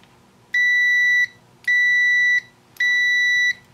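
Digital multimeter continuity tester sounding three loud, clean high-pitched beeps, each held just under a second with even gaps between them, alone over a faint background.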